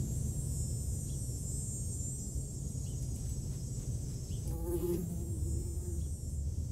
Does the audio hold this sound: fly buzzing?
yes